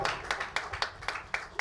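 Audience clapping at a press club ceremony in Karachi, heard as a faint, steady run of distinct claps about four per second, with no crowd roar behind them.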